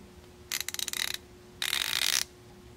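Two quick bursts of rapid fine clicking come from a Duralast 90-tooth 3/8-inch encapsulated ratchet being turned back and forth, crisp and close in a quiet room.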